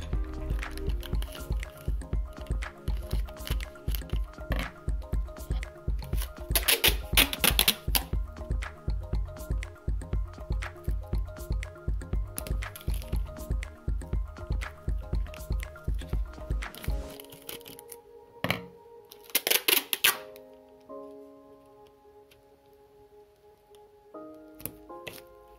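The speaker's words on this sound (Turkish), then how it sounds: "bantlar keseceğim" Adhesive tape being pulled and cut for decorating a room, a long run of crisp repeated tearing and snipping noises close by, then a few isolated cuts and quieter handling toward the end.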